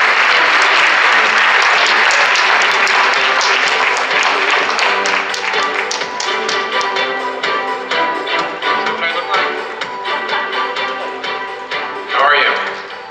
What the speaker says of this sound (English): Let's welcome him with a warm round of applause.